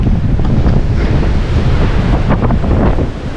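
Strong wind storm gusts roar loudly against the microphone with heavy rain and buffeting, a dense continuous rush from start to finish.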